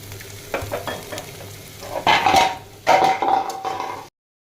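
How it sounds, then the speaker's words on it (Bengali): Spice paste fries in oil in a kadai with onion, sizzling steadily while a spoon stirs and scrapes, with two louder sizzling surges near the end before sudden silence. "পেস্ট একটু হালকা ভেজে নিচ্ছি"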